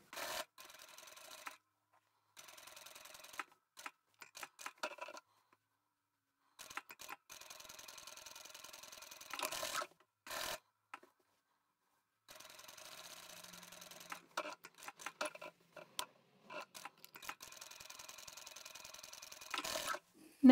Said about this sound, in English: Let's go sew those two ends up.